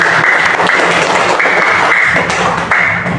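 A classroom of students applauds a classmate, Najwa, after she reads a conclusion during a morning Islamic studies lesson; dense, steady clapping from many hands fills the room at close range without a pause.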